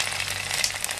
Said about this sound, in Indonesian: Nah. Ini suara gorengannya ini lah.